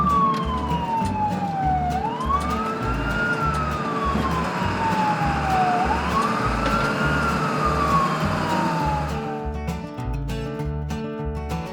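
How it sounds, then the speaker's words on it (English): A toy ambulance siren from a Peppa Pig toy set wails alone, with a loud, continuous rising and falling tone over a steady pulsing beat that changes character near the end. "he put Peppa on a stretcher and helped her into the ambulance"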